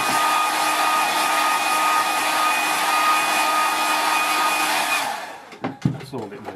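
A hair dryer blows loudly and steadily for about five seconds drying watercolour paper, then switches off, leaving a few soft handling noises.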